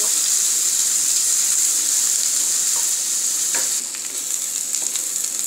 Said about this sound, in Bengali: ম্যারিনেট করে রাখা চিকেনটা, এটা আমি এই অল্প তেলে এভাবে ভেজে নিব